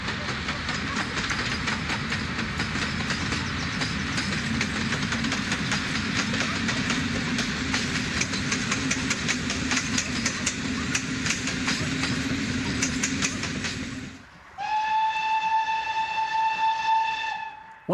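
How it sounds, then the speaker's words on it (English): A small-wheeled freight steam locomotive rolls past at moderate speed with a dense, continuous rumble and clatter, then the steady roar cuts off and a long steam whistle sounds on its own. "Being a small wheel freight engine, it wasn't travelling particularly fast"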